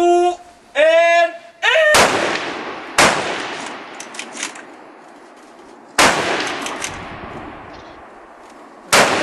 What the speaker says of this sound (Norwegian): Skudd om 5 sekunder.